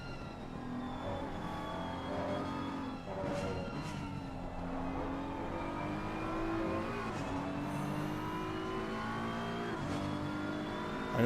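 BMW and McLaren GT3 race cars at Suzuka in a racing video game, engines revving and shifting up and down through gears in a steady loud drone, with brief rises and drops, no voices.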